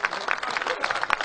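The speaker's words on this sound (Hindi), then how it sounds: "पूरा सदन जोरदार ताली बजाकर" An audience at a Hindi comic poetry gathering claps, a dense patter of hands with a few sharper bursts, moderately loud and continuous.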